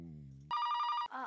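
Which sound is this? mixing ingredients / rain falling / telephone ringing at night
telephone ringing at night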